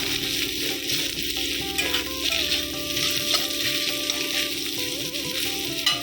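Onion and potato frying in a pan, a steady close sizzle with occasional stirring scrapes running continuously throughout, no talking.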